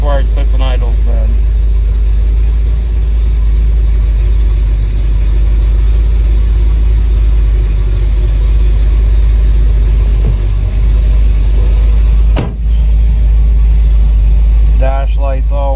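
Fuel-injected engine of a restored 1963 Corvette split-window running at fast idle: a steady, loud, low rumble held throughout, close by, with no voices.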